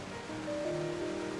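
Waterfalls in Rastoke village, Croatia, giving a soft, steady wash of falling water, faint and constant, with a faint tonal hum on top.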